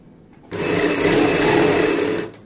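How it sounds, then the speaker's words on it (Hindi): A sewing machine stitches a lace strip onto a kurti's ban neck, starting abruptly and running as one steady, loud, close whirring burst for about two seconds before stopping, with no talk. "निशान लगाते हुए यहाँ से हम सिलाई लगाएंगे।"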